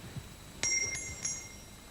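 A bicycle-style bell rings three times in quick succession, bright metallic dings with a short ringing decay, close and clear against a quiet background.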